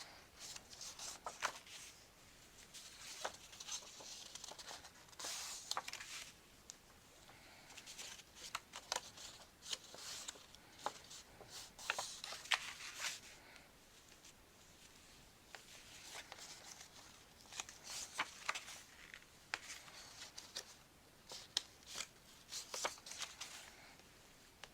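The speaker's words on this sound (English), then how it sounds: "now we're going to fold on all of our score lines" Paper for an Authentique calendar year album being folded along its score lines, quiet crinkling and soft creasing taps that come in uneven bursts throughout, close and faint, with no talking.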